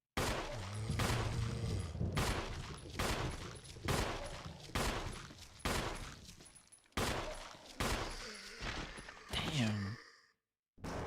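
Gunfire rings out in the video game Resident Evil 1, about a dozen sharp, loud shots spaced roughly a second apart, each with a decaying tail, ending in a brief silence.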